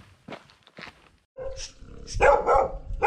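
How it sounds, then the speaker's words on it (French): A dog barks a few times at a distance on a mountain hike in a Mont Lozère village, after some faint soft voices, with footsteps and outdoor rustle around. "le chien nous donne le top départ du matin"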